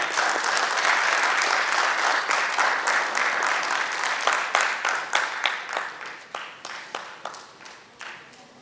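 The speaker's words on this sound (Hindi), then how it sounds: "एक बार जोरदार तालियां हो जाए" Theatre audience applauding a band after a stage play, a loud sustained wave of clapping that gradually thins into distinct individual claps and fades toward the end.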